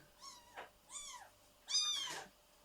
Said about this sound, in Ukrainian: Рудий кіт.